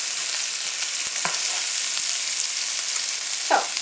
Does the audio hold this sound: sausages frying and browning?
yes